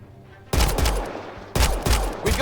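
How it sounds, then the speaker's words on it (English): Pistol shots in Mass Effect Andromeda: a few sharp, loud shots in quick clusters after a quiet start, each with a booming tail, close up and with no talking. "Let me just scope this guy with my pistol."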